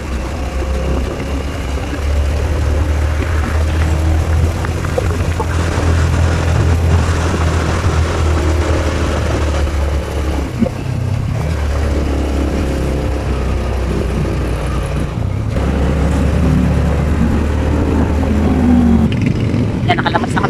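A motorized tricycle labors up a steep road, its engine droning loud and steady throughout with occasional shifts in pitch, while people talk over it.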